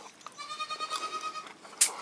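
A goat on a farm bleats in one long wavering, quavering cry, close and clear against a quiet background, ending in a short sharp knock.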